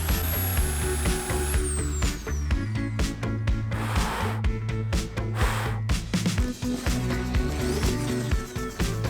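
A drill bores a through hole in the thick fiberglass hull of an old sailboat, using a hole saw and a small standard bit, in uneven grinding bursts under steady background music.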